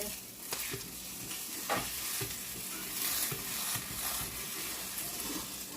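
Egg, cheese and potato omelette sizzling steadily in a pan as a spatula scrapes and turns it, with a few sharper scraping knocks over the continuous close frying hiss.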